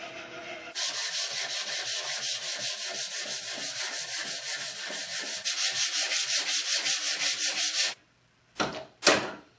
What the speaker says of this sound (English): now we can do some finish sanding